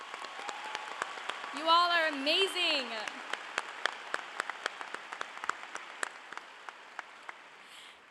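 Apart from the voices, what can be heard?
graduation audience applauding the school staff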